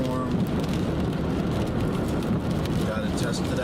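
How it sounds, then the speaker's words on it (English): Dense, steady rain and hail pounding a vehicle during a severe warned storm near Foreman, Arkansas, a continuous loud broadband roar with no breaks. "Got a hail core, severe warning storm."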